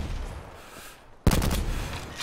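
A sudden loud burst of gunfire from the Outlaw rifle in 3-round burst mode in Call of Duty Blackout erupts after a quiet stretch, close and sharp, with echoing tails.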